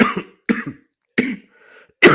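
A person on a live show coughs repeatedly, four harsh, close, loud bursts separated by short pauses, with a faint wheezy breath between them.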